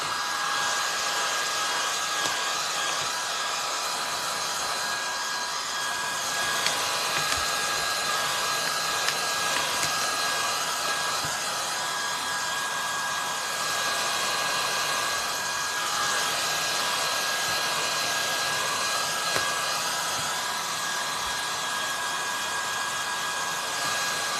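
A hair dryer blows on a freshly glued decoupage steampunk woman wall picture, giving a loud, steady, unbroken whoosh with a faint whine that holds for the whole stretch, with no talking.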